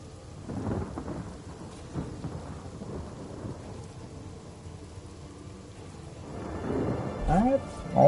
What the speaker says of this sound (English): Can I cast rain here?